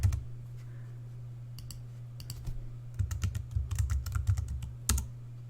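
Quick bursts of typing on a computer keyboard while signing in to a diet analysis program, with close, crisp key clicks in uneven runs over a low steady hum, no voices.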